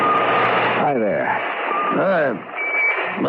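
A pocket alarm watch goes off in a radio mystery drama, sounding as a steady, insistent electronic tone with wavering warbles, fairly loud and close, with no speech over it.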